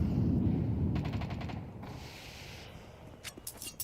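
AK rifle fire rings out in a Counter-Strike match on Dust 2 during a NAVI esports game, a loud opening burst of rapid shots fading into a rumble, followed by a few distant sharp cracks.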